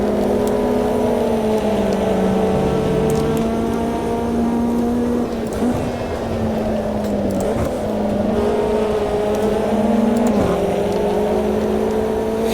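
A Metalmoro MRX P3 race car in the Automobilista 2 racing game laps at Curitiba, its engine droning steadily as it shifts up and down, with tire squeal and scrub layered underneath through the corners.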